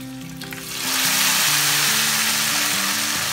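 Mustard seeds, curry leaves and dried red chilies sizzling in hot coconut oil for sambar seasoning, a steady close crackling fry that swells after a quiet start, with faint scraping alongside and no talk.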